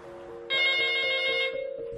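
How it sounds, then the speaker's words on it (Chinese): An urgent telephone bell rings in the office of the Zaozhuang cultural relics management committee, one loud, sustained, bright ring lasting about a second over a low steady hum. "一阵急促的电话铃声在枣庄市文物管理委员会办公室响起。"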